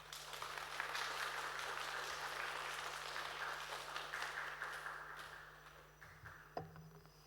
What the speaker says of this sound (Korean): 우리 목사님 올라오실 때 박수로 환영하겠습니다